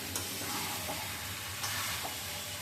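Chicken going into spiced masala in a hot pan, a loud continuous sizzle and hiss of frying with a few sharper bursts as pieces hit the oil and get stirred.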